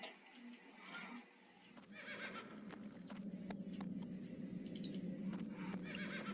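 A horse in a video game whinnies briefly near the start, then steady clip-clopping hooves and scattered clicks continue at moderate volume, near a stable.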